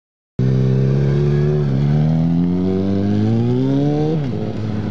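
A motorcycle engine runs loudly and close by, holding a steady rumbling idle throughout with a slight rise and dip in pitch near the end.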